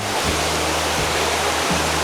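A continuous, full-bodied rush of cascading water from Dhuppani falls in Rangamati, heard up close and unbroken, with brief low dips in the roar.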